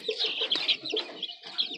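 Chickens and chicks clucking and peeping close by, a dense run of short chirpy calls overlapping continuously.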